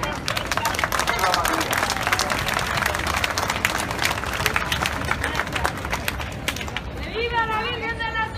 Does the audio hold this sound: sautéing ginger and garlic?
no